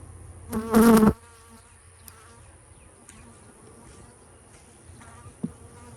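Honey bees buzzing during a hive inspection at an apiary in a cow pasture, one loud close buzz passing briefly near the start, then a faint low hum of insects with soft handling sounds.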